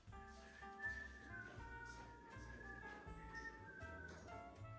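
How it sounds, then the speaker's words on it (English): A woman whistles a soft, wandering tune while she styles decorative shelves for Christmas. The whistling is faint and close, over low background noise. "I had to leave that little clip in of me whistling."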